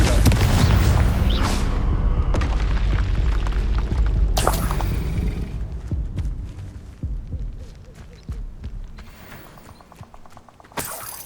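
Confringo spell explosions during Hogwarts Legacy combat, mixed with other spell casts: a series of heavy booms and sharp bursts across the stretch, loud at first and then thinning into scattered hits and clatter.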